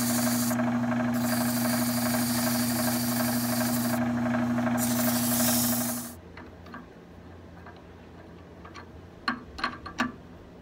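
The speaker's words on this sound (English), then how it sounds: "So I brought this speed down to 684. That's a little bit better sanding speed." A lathe spins a brass salt shaker while sandpaper is held against it, making a steady hum with broadband rasping in bursts. After about six seconds the sanding stops, leaving quiet ambience and a few sharp clicks near the end.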